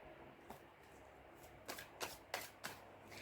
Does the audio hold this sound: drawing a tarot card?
yes